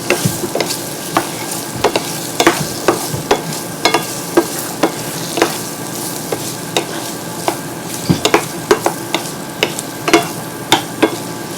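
Chayote sizzles in a pan while a utensil stirs it, giving a series of sharp scraping clicks over a continuous soft frying hiss, close and clear with no talking.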